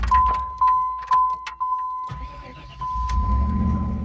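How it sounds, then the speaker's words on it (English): A 1993 Pontiac Firebird engine, its wiring restored to stock after a kill switch failure, cranks and catches, then settles into a low rumbling idle, with a steady electronic chime and a few clicks beforehand. "car starts up nicely"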